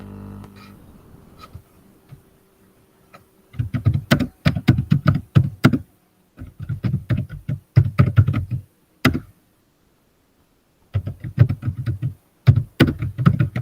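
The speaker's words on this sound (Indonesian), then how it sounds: "Banter teman Kak Andi ngetik." Bursts of rapid computer keyboard typing with short pauses between runs, close and fairly loud, heard alone without voices, as during an online class session.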